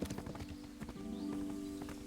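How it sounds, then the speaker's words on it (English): Horse hooves clop in the video game Kingdom Come: Deliverance, a quick run of close, distinct strikes that gives way to a sustained tonal hum. "Horse."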